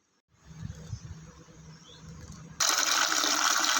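Small fresh fish are washed in water: soft, uneven sloshing and splashing, then a louder, steady gush of running water that fills the last second or so, all close and without talk.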